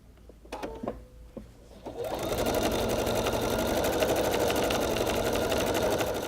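A Pfaff Creative Performance sewing machine runs a decorative stitch, starting with a few short clicks and taps, then settling into a steady, close, continuous mechanical whir that carries on to the end.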